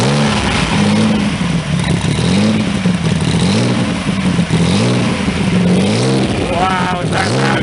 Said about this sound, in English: Crank that baby up. 165 mile an hour Corvair, right here on CORVAIRWILD.